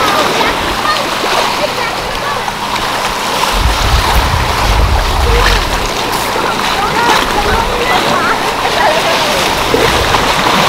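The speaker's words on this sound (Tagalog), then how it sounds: "Ang alon nga lang, ang sarap sanang mag-surfing." Surf rolls steadily onto a white sand island beach, a loud continuous wash with wind buffeting the microphone and a low swell rising midway, while people chat over it.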